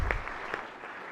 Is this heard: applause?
yes